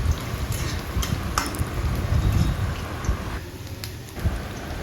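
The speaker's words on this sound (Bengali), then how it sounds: "এই রসুন এবং শুকনো লঙ্কাকে একসাথে 4-5 মিনিট ভেজে নিতে হবে," Garlic and dried red chillies fry together in a pan over a low flame, giving a soft, steady sizzle with a few faint clinks and stirring taps up close.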